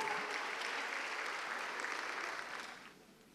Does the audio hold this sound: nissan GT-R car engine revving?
no